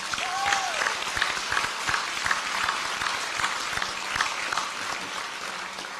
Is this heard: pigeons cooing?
no